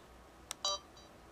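A short electronic beep from a Sony Cyber-shot DSC-W290 camera, then a second slightly longer two-tone beep, with a faint third chirp trailing after; quiet and close, with no talking.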